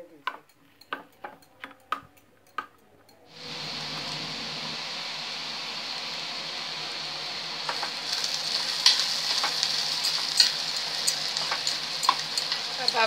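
A few sharp taps and clinks, then a sudden loud, steady sizzle of onions frying in hot oil for a tempering, with stirring scrapes over it.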